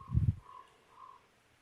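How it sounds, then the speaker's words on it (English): A bird calls a few times outdoors, with short tonal notes spaced apart, while a heavy low thump or step sounds at the start. "You got a bird right here coming up on me"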